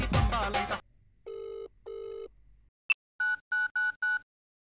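A phone call goes unanswered: a burst of noise gives way to two long ringback tones, then a short beep and a run of four quick electronic rings, all clear and close.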